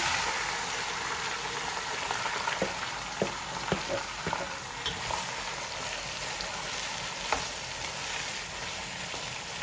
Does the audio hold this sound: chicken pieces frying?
yes